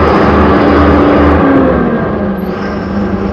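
A brand-new Ashok Leyland BS6 tourist bus drives along, its diesel engine droning loud and close with a steady low rumble and a gently falling pitch.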